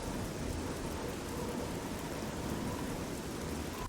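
Heavy rain in the Oblivion video game pours loudly and steadily with a low rumble of thunder underneath, a dense continuous wash of noise with no voices.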